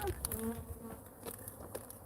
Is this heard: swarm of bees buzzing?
yes